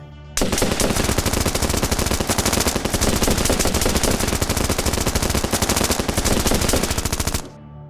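Loud, sustained machine gun fire in long rapid bursts, rattling almost continuously for several seconds before stopping abruptly.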